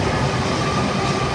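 LRT train in Quirino station, Manila, rumbling steadily at close range, a continuous loud rail roar with no talk over it.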